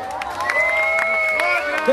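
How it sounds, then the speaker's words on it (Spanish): An audience at a Corpus Christi 2013 event applauds and cheers for two rock bands, a dense, loud wash of clapping and crowd noise, with a voice standing out over it. "El aplauso para ellos."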